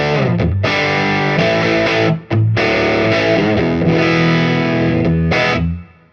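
An electric guitar played through a cranked, dirty Bravado amp rings out in thick, distorted sustained chords, loud and close, with a couple of brief cut-offs between strums and a final fading decay.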